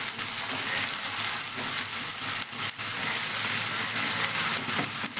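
Ginger garlic paste fries in a pan, a steady, loud, dense sizzle with crackling spatter throughout and occasional stirring, no voices.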